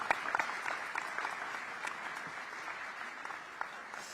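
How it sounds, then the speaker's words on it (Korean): Audience applause at a Korean community meeting with the president, fairly faint and sustained for about four seconds, with a few sharper claps standing out and no talking over it. "자유 발언을 해주신 모든 분들께 다시 한번 감사의 박수 부탁드리겠습니다."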